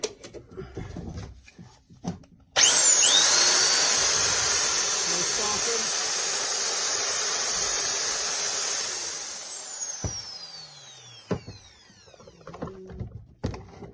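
A repaired Makita power tool motor starts abruptly and runs as a loud, steady high-pitched whine for about six seconds, then winds down with a falling pitch, with handling clicks before and after.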